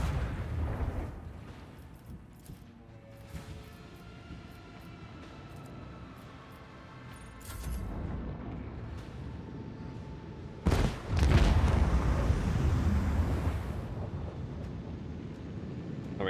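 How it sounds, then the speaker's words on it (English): A starship's lance battery fires a volley in Warhammer 40k: Rogue Trader. Rumbling space-combat ambience builds into a sudden heavy blast around the middle, followed by a sustained, loud roaring barrage, with no talk. "Lance batteries, volley!"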